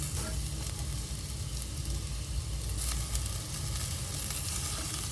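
Green chillies fry with onions sautéed until glassy in a pan, as kothu parotta is made from leftover chapati. A continuous close sizzle hisses throughout, with faint stirring scrapes and a low rumble underneath.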